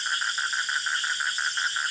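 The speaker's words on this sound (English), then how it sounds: "Black-spotted toads are highly vociferous during the rainy season, which happens to be their breeding season." Black-spotted toad calling in the rainy breeding season, a steady rapid pulsing trill repeated about every fifth of a second, clear and alone.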